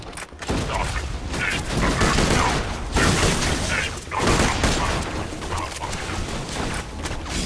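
Rapid automatic gunfire in Borderlands 2, a dense, continuous burst of shots that runs almost the whole time, loud and close, with a brief gap near the start and game effects mixed in.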